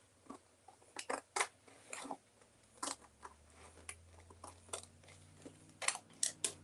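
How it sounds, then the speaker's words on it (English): Regular scissors trim something in a run of crisp, close snips, irregularly spaced with short pauses between cuts and a low background hum underneath. "Now I'm just going to use my regular scissors and trim that up."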